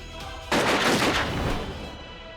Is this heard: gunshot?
yes